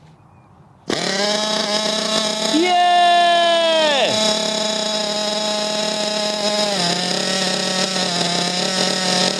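A Hobao Hyper 7.5 nitro RC car engine catches after a quiet moment and buzzes loudly at high revs, pitch rising then dropping as the throttle changes, holding a steady whining drone close by to the end.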